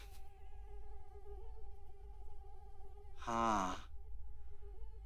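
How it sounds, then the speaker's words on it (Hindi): A mosquito whines with a thin, steady hum throughout, fairly faint, while a voice briefly sighs or murmurs near the end. "मच्छर।"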